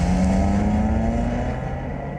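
A car driving fast produces a loud, steady engine roar with a droning tone that eases slightly and recedes toward the end, with no voices over it.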